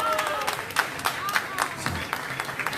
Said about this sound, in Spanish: Fuerte los aplausos para él